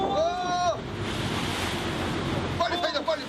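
Rolling sea waves and wind noise around a pilot boat off Busan, a steady broadband wash filling the clip, with voices calling out briefly at the start and again near the end.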